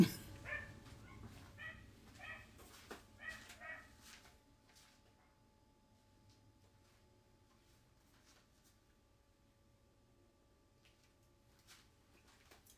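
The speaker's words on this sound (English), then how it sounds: "Dogs." Several dogs bark in short bursts during the opening seconds, fairly close and with some overlap, then fade out into near silence with only faint background noise.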